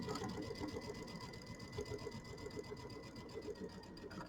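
A sewing machine stitches the binding of a mini quilt, humming steadily with a fast, even mechanical pulse, close by and continuous for a few seconds before stopping.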